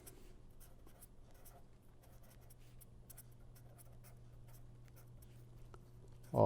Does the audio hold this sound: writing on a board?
yes